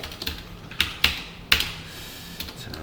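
Computer keyboard keys pressed while writing JavaScript code: a few sparse, sharp clicks close by, separated by short pauses, against a quiet room hum.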